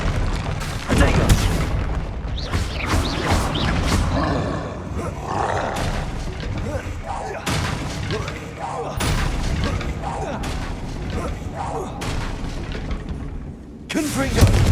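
Explosive spells in the video game Hogwarts Legacy blast and roar continuously, a dense, loud wall of booms with brief pauses, while a voice shouts over the din.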